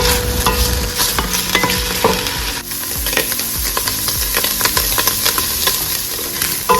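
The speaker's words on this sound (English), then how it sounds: "add you some olive oil to the pan and cook your sausage down" Sausage sizzles and crackles steadily in olive oil in a hot pan, with occasional scraping and stirring sounds over the constant frying hiss.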